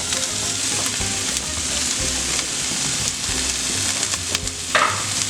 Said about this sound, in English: we're going to saute them